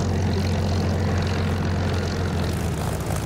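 A Spitfire's piston engine idles and rumbles steadily while taxiing in the DCS flight simulator game, a continuous low propeller drone that fills the whole stretch with no talking.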